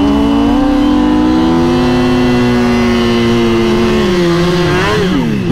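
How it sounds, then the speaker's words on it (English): A turbocharged Suzuki Hayabusa revs loudly and steadily close by at a drag strip, its engine note holding high and wavering before dipping and climbing sharply near the end, with no talk over it. "We are lined up beside a turbo Hayabusa this time."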